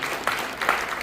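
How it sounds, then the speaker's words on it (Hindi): Light, soft applause from a small gathering of cow devotees at a gaushala event, a faint patter of clapping swelling in two gentle waves over a short stretch. "आपकी हल्की हल्की तालियां गो भक्तों की तरफ से बजती रहनी चाहिए"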